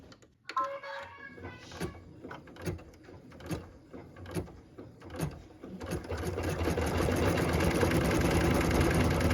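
Embroidery machine stitching white detail onto a Christmas stocking ornament: spaced mechanical clacks at first, then a steady, loud, fast rhythmic whir of stitching that continues to the end.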